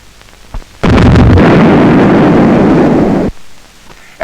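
The main gun of the battleship HMS King George V fires once in a single loud, booming blast that roars for about two and a half seconds before cutting off.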